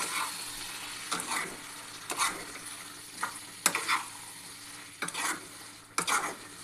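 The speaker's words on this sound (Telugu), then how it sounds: "ఇందులో మనం మటన్ యాడ్ చేసుకుందాం యాడ్ చేసుకుని దీన్ని బాగా కలిపేసుకుందాం" Mutton pieces coated with salt, chili and dal fry in a pan under a constant close sizzle, stirred with about half a dozen scraping strokes spaced roughly a second apart, with no talking.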